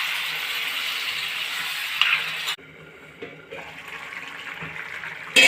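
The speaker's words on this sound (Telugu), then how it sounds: "ఇప్పుడు వాటర్ వేసేస్తున్నానండి నేను." Water is poured into a pan of mashed potato curry for puri, a steady rushing hiss of liquid that stops abruptly, followed by quieter bubbling and a burst of sizzle at the end, with a voice talking over it.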